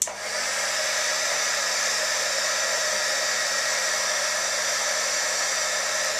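A heat embossing tool melting embossing powder on candles blows with a steady, loud, even whir like a small hair dryer, running without pause the whole time.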